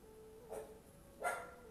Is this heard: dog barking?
yes